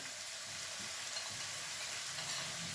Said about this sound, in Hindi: इसको अच्छी तरह हमने भूनना है। ठीक है, अच्छी तरह इसको फ्राई करें